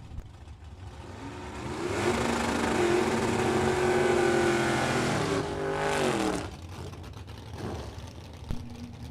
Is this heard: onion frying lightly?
no